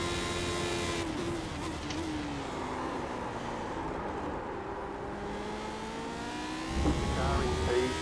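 Race cars in a Lotus racing game whine past with sustained high engine tones that slide in pitch as they approach and pass, a louder roar swelling near the end over a constant engine drone.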